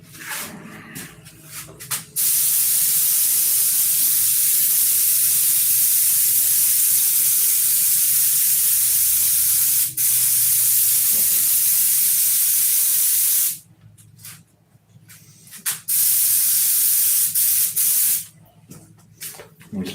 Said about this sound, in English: We spray that plastic, just don't flood it.